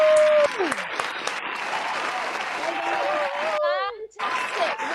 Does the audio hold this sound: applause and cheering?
yes